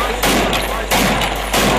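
Automatic gunfire at a Pakistani wedding, heard as a loud burst of rapid shots in repeated waves across the short stretch, with no voices over it.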